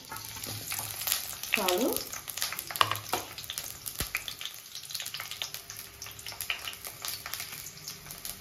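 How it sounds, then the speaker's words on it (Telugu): Onions sizzle steadily in hot oil for a chicken fry, with clattering stirring strokes through the frying and a brief spoken word. "ఆయిల్ హీట్ అయిన తర్వాత కొంచెం ఆనియన్స్"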